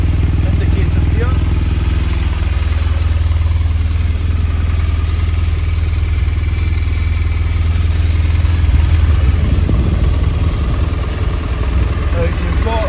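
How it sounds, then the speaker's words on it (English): A 2015 BMW R1200RS motorcycle idles as its engine warms up, giving a steady, loud, close low rumble with a faint clatter that holds evenly throughout. "I'm just going to let the bike warm up here."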